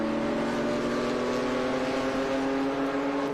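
Vintage race cars at Watkins Glen circuit, including a BMW M3 Lightweight, drone past with steady, strong engine tones, a loud sustained roar of several cars close together with no voices.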